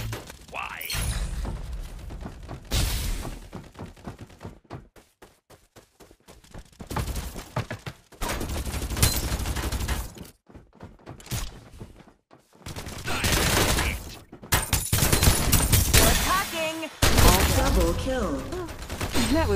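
Rapid bursts of automatic gunfire and thudding impacts from the mobile shooter game Farlight 84, loud and close, broken by short quiet gaps, with game voice lines mixed in.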